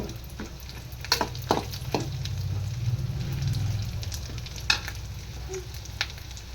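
Oil frying in a pan while rice-flour dosa is being cooked gives a steady, close sizzle and crackle, with occasional sharp pops and stirring knocks and no talking.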